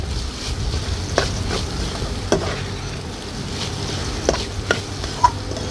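Crushed garlic and grated coconut sautéing in a pan give a steady low sizzle with a few light stirring clinks and scrapes, close and alone with no voices.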